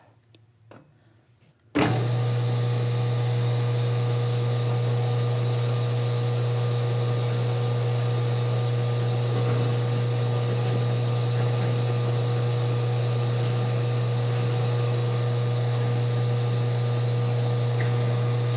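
A machine turns at about 90 RPM, cutting an aluminum seatpost with plenty of cutting oil. A steady, loud mechanical drone starts abruptly and runs unbroken with a constant hum.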